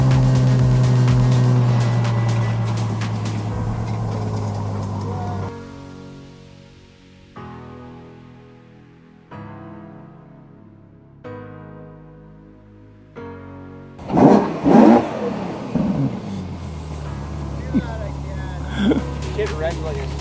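A stock Ferrari V12 engine revs loudly, with sharp climbing blips that drop back and hold between throttle stabs. Voices speak over and between the engine.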